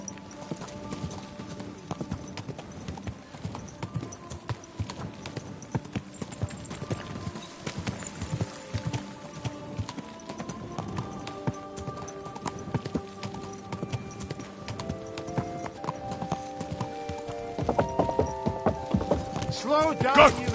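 Horse hooves clip-clopping at a walk in Kingdom Come: Deliverance II, a steady rhythmic clatter throughout, with speech and other in-game sounds over it, growing busier toward the end.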